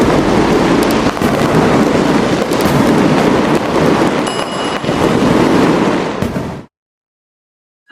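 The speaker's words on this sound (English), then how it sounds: "these fireworks, hands down the most breathtaking display I have ever seen" A New Year 2025 fireworks display in Doha, Qatar, makes a dense, continuous roar of booms and crackling bursts, loud and close, which cuts off abruptly into silence near the end.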